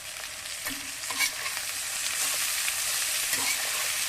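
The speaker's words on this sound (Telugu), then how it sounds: "కర్రీలో తరిగి పెట్టుకున్న అన్నిటిని కూడా దీంట్లో వేసేస్తున్నాం" Chopped vegetables frying and being stirred in a pan for okra curry with crushed garlic and peanuts, a steady close sizzle with a few scraping stirs, no talking.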